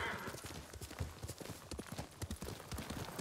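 Hooves of a ridden horse clip-clop steadily in Ghost of Tsushima, near and rhythmic over a soft ambient background, the beats quick and fairly even throughout.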